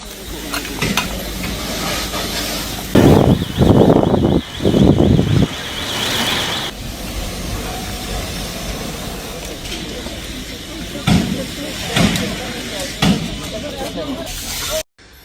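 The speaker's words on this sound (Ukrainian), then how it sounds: "Водичка закипає, занурюємо цибульку з морквою." Water coming to a boil in a soup pot as chopped onion and carrot are dropped in, with loud bursts of splashing and sizzling around the middle, then quieter simmering broken by a few sharp clatters.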